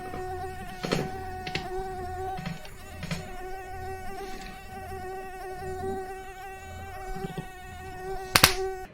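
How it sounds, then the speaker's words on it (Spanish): Mosquitoes whine in a thin, continuous high-pitched buzz that holds steady throughout, close to the ear, with scattered faint clicks and knocks in the background. "¿acaso hay algo más molesto que el sonido de los mosquitos?"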